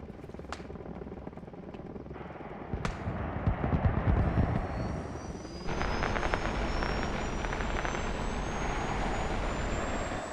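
A helicopter flying in the video game Arma Reforger, a loud continuous rotor and engine roar with a rising turbine whine, close and steady throughout with no talk.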